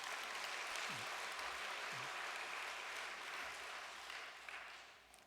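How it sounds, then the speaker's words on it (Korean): A congregation at a church service claps for its elders in a steady, dense roar of applause that sounds slightly distant and fades gradually toward the end, with no one talking. "오늘의 통일가를 일구신 우리 선배님들을 위해서 박수 한번 보내올리겠습니다"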